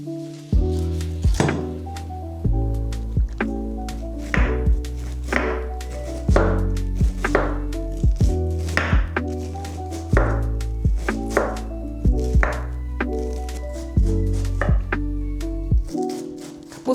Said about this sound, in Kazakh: Капустаны тураған кезде өте майда қылып тураңыздар, ұзынша майда қылып.